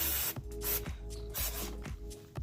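Brake cleaner is sprayed in short, close, hissing bursts onto a motorcycle's semi-floating front brake rotor, caliper and pads, about five quick blasts in a row.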